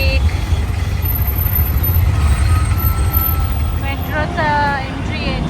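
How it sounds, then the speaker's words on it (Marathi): Trucks and buses in Mumbai street traffic make a loud, continuous engine rumble and idle, with horn-like tonal blasts near the end, heard close up; a voice speaks over it. "मुंबईची ट्रॅफिक"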